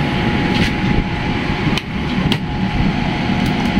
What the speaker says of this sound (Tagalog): So kailangan natin martilyo.